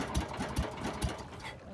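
A small fishing boat's engine at sea, out catching bullet tuna, chugs in a few uneven low thumps before sputtering and dying away, with voices talking over it.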